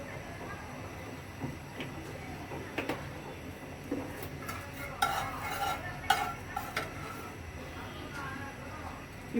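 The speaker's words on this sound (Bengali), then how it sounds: "গরম মশলা, তেজপাতা, এগুলো প্রথমে দিয়ে আমি ভাজবো।" Garam masala and bay leaves fry in soybean oil in a pan over medium heat, giving a quieter sizzle with scattered spoon scrapes and taps, which grow busier midway, heard close up without speech.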